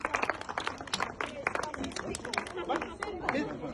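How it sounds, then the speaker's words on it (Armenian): Applause at a school award ceremony, sharp scattered claps from a crowd in a hall, fairly loud and uneven, mixed with chatter and voices throughout. "բարձր ծափեր"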